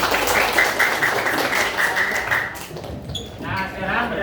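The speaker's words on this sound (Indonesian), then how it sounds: "Tepuk tangan kita semua." A school class applauds together in a classroom, with dense, close clapping for about two and a half seconds under a steady ringing tone, then thinning out into scattered noise.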